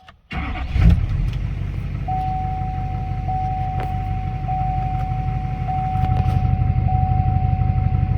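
A car engine cranks over and catches, then settles into a steady, rumbling idle that grows slightly louder near the end, with a thin electronic whine running through.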